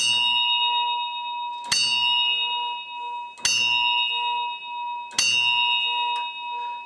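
A large automated electric bell rings in three sharp, loud strikes spaced evenly about two seconds apart, each leaving a long bright ringing tone that decays slowly, close and alone.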